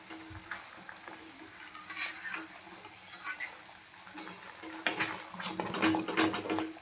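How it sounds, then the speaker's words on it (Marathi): A spoon stirs and scrapes through a sizzling spicy momo chutney in a pan as vinegar and soy sauce are mixed in, with soft clinks and wet swishes that grow busier toward the end. "एक चम्मच व्हिनेगर छानपैकी याला मिक्स करून घेऊया"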